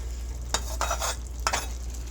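River anchovies (keski mach) frying in a pan are stirred gently, giving a few soft scraping strokes over a steady, close sizzle, with no voices.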